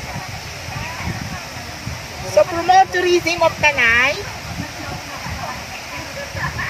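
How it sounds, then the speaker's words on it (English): Water rushes steadily from an overflowing river at Tanay, Rizal, a constant wash of sound beneath a person talking over it. "Nandito naman po kami sa flowing, overflowing river."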